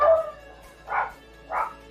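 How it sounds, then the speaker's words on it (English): Dogs barking in the background of a home setting, three muffled barks spaced roughly evenly apart, moderately loud and somewhat distant, with no talk over them. "Sorry for the dogs in the background."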